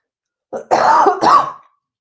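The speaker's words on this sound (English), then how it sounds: "You still have the cough." A person coughs and clears their throat in two rough, close bursts, then silence.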